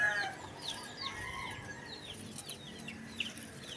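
Chickens cluck softly in a backyard garden near tomato plants, several short calls scattered across a quiet outdoor scene with no talking.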